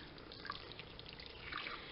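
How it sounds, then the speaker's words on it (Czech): Boiling water is poured from close by over pork neck laid in a casserole pot, making a soft, steady splashing trickle with brief gurgles. "Teď ji zaleju"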